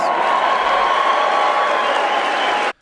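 A crowd at a political speech cheers and applauds, a loud, dense burst of clapping and voices held steady before cutting off abruptly near the end.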